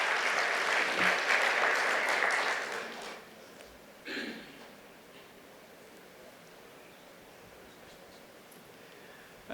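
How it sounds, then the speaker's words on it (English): An audience at a panel discussion on anti-money-laundering risk claps for the moderator in a room, a dense burst of applause for about three seconds that quickly dies away, followed by a few scattered claps and quiet room tone. "I would like to invite Mr. Rajiv Hira with a thunderous round of applause."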